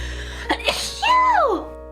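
A single sneeze, with a quick sharp inhale followed by a loud, voiced burst that trails off into a falling tone.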